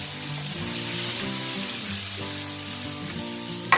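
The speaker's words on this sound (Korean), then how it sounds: "자, 이렇게 볶다가 이제 김치를 투하." Kimchi stir-frying in a pan with green onions for Korean kimchi fried rice, giving a steady close sizzle with a soft hum and a brief clank at the end, and no talking.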